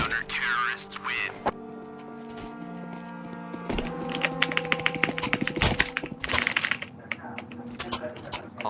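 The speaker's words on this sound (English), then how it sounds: "Oh, that's a very nice sound of the keyboard, though." Computer keyboard typing breaks into rapid, clicky bursts of keystrokes close to the mic during an online Counter-Strike session. Game sounds and music tones ring beneath it.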